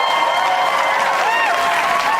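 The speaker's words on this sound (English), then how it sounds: "And the crowd in the theater was cheering" A theater audience cheers and applauds in a loud, continuous burst of clapping and whoops, with a few higher tonal sweeps riding over the crowd noise.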